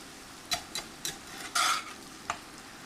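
Broccoli and carrots sizzling in a pan during stir-frying, a faint steady hiss broken by several sharp scraping stirs and one longer stirring sweep, close by with no talking.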